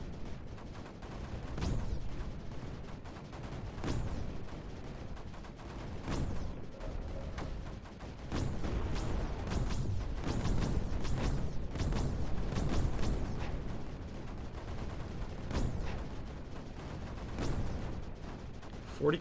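Mortars firing in Creeper World 4, heard as a steady run of dull, muffled thumps and bursts spread through a continuous game backdrop, moderately loud with no talk over them.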